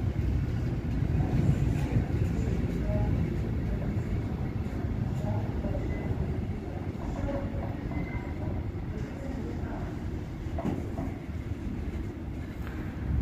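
A long train rolls into the station at Gemünden am Main, Bavaria, slowing toward a stop, its broad steady rumble and rail noise filling the scene close by and easing slightly over time.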